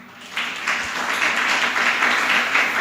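An audience at a Jain religious discourse breaks into a short burst of dense applause that swells and carries on steadily to the end.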